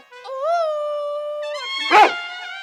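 A man in a comic stage play imitates a dog howling with his voice: a long, wavering, drawn-out howl followed by a short, rough yelp, heard close and alone.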